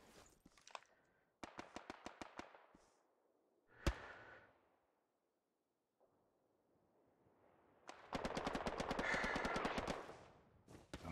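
Gunfire in the World War II shooter Hell Let Loose: rapid automatic bursts, single sharp shots, a quiet lull, then a long sustained volley of machine-gun fire, close and loud.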